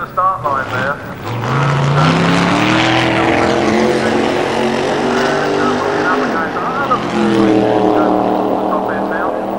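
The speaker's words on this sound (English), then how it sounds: "Spinning the wheels away from the start line there." A drag-racing car spins its wheels off the start line at Santa Pod in 1990, a loud, close engine roar with rising and falling revs that holds strong for several seconds.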